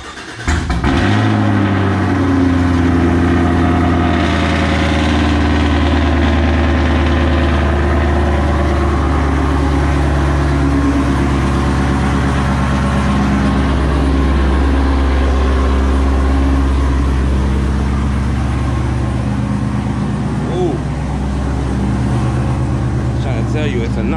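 A tuned 600hp V8 in a 2021 Chevrolet Camaro SS idles steadily and loudly with a deep rumble for the whole stretch, its low throb constant with a rough, lopey edge and no voices over it.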